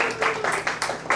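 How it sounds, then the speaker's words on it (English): A brief burst of audience clapping at a church sermon, with a few distinct rhythmic claps in just over a second, fairly close and with no talking. "Clap it up."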